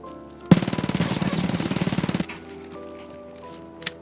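Vector submachine gun firing in Escape from Tarkov, a rapid, dense full-auto burst of close, loud shots lasting under two seconds, followed by quieter ambient game noise and a faint later click.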